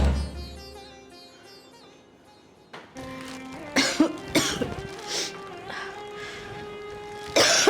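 A woman coughs in a series of harsh, close bursts inside a Gujarati household drama scene, following a stretch of soft tonal background music.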